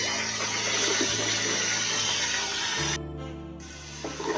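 Sliced onions go into hot oil with a little leftover water for a biryani, producing a loud, dense sizzling hiss that drops in intensity partway through and then continues more softly.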